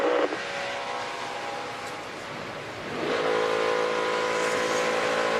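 A race truck engine at the 2014 Pocono Mountains 150 cuts out, then restarts and revs hard, its loud, steady roar swelling after a brief dip and holding close by with no talking.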